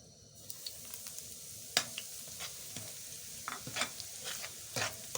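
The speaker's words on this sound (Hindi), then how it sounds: "सूजी की बुनाई करेंगे हम जब तक इसका कलर नहीं आ जाता" Semolina roasting in hot ghee for suji halwa, a steady soft sizzle broken by scattered scraping stir strokes of a spoon against the pan, close and moderately quiet, with no talking.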